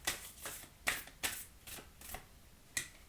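Oracle cards from the Mystical Shaman Oracle deck being shuffled close up, a series of soft riffling bursts at an irregular rhythm with no talking.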